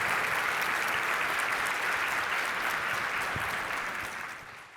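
Audience applause at a conference fireside chat, a steady wash of many hands clapping that holds evenly, then begins to thin and fade toward the end.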